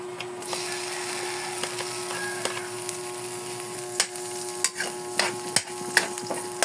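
Garlic and onion sizzle and fry steadily in a pan, with sharp spatula scrapes and clacks against the pan growing more frequent near the end.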